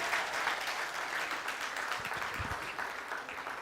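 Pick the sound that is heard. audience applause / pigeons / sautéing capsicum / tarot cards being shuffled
audience applause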